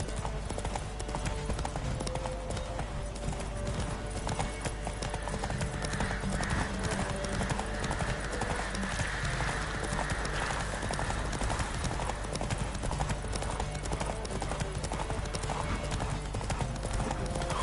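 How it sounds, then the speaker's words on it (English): Continuous rhythmic hoofbeats of a horse galloping in a horse race in The Witcher 3, with occasional whinnies over steady game ambience, while someone talks over it. "So we're like horse racing over there, but it's pretty slow paced."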